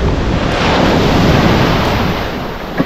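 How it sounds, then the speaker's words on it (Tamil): Big sea waves crash and wash on a beach at Pondicherry, a loud, steady roaring surf with heavy wind buffeting the microphone and no voices. "பெரிய அலை தற்போது வந்து கொண்டிருக்கிறது."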